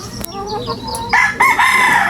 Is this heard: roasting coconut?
no